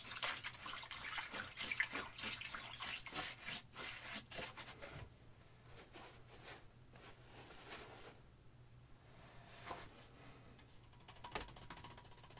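An oil paintbrush is rinsed in water, giving soft close rubbing and swishing strokes against the container, brisk at first and then quieter, faint overall with no voices.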